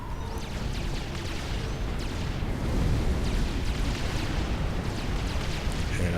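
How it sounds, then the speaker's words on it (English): Artillery shells land in a Supreme Commander skirmish on the Ambush Pass map, with a dense, continuous barrage of loud booms and crackling explosions rolling on without pause, and no voices over it. "some artillery falling on me, so I'm going to move back a little bit before those land"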